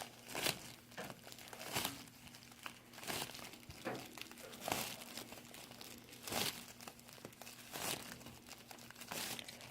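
Plastic milk-bag strips being woven into a sleeping mat give off bursts of crinkling and rustling every second or so, close and fairly quiet, with a faint steady hum underneath.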